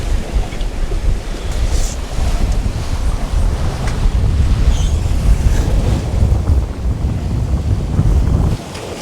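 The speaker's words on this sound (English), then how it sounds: "we're just jumping along in these big swells from yesterday's gale" A sailboat bounces through big North Sea swells left by a gale, with loud, constant wind rumble and surging waves slapping the hull. No voices.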